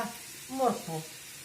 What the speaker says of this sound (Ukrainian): І най воно ще разом з морквою смажиться